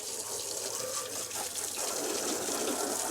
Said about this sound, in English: I think I'll hose down the alternator while I'm at it.